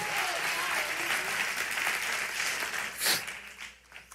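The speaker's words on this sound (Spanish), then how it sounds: "O cuánto un aplauso a Dios" A church congregation applauding together, a dense sustained burst of clapping that fades out toward the end.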